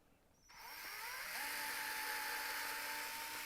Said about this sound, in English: we drill that hole.